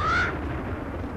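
A bird in the video game Maximo: Ghosts to Glory gives a single short caw as it is killed, loud and close at the start, then fades into the steady game background.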